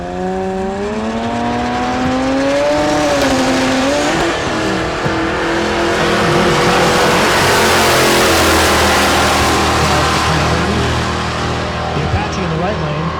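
Real Street Supra drag racing at Tulsa Raceway Park, a loud engine winding up through the gears before a long, roaring launch down the strip, with a public-address voice talking over it.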